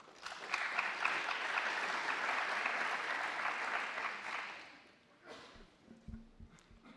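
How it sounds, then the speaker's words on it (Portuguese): Applause from the audience at a technical presentation event, steady and broad for about four seconds, then tapering into scattered claps and a low voice near the end. "Por favor, uma salva de palmas."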